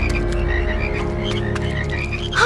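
Cartoon frogs croak loudly and steadily in a dense, continuous chorus over a humming background, with no voices, ending in a brief sharper swoop.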